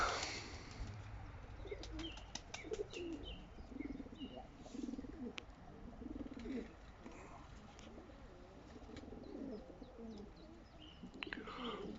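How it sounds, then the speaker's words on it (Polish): Pigeons coo softly in repeated low calls, with a few chirps and wing flaps scattered through the faint background. "Ale przyniosłem wczoraj fajne trzy gołąbki"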